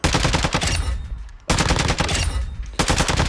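Automatic gunfire on the firing range in Warzone 2.0, with rapid loud bursts that cut off for a brief pause and then resume, close and dominant.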